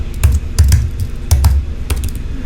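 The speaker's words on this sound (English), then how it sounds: "let's type hashtag, see what happens." Keys clatter on a computer keyboard as a hashtag search is entered on Instagram, a few quick bursts of clicks at close range with no voices.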